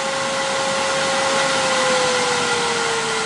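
A Laguna wood lathe spins in reverse at around 1000 RPM, a loud steady motor whine with a clear tonal hum that slowly sinks in pitch over a broad airy rush.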